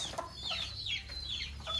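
Hens cluck softly around a rooster in a new budget backyard coop, a few short high clucks and calls close by without talk.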